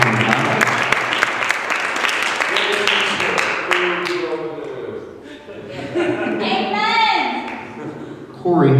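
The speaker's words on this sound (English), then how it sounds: "And a round of applause for 2 and 9." A poetry slam crowd claps for two performers after their scores are read, a thick burst of applause that tapers after about four seconds into scattered claps, a chuckle and a voice talking over the room.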